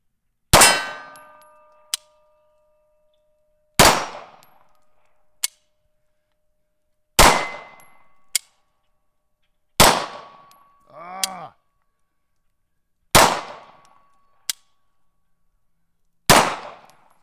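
A Hi-Point Maverick JS 9 pistol fires roughly seven loud, sharp shots spaced a couple of seconds apart, each followed by a brief metallic clank, with a short ringing rattle between shots as the pistol fails to go into battery.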